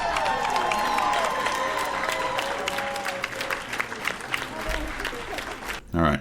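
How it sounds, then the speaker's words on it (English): Crowd cheering and applause swell loudly and steadily from a dense audience, with scattered shouts and whistles over several seconds before a brief cutoff and a short burst at the end. "crowd goes crazy"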